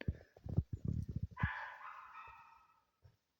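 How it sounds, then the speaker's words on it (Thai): A dog barks in a forest during a camping and hunting trip, with a quick string of close, sharp barks followed by a fading, rougher call and one faint final yip. "มาตัวเดียวเห่า"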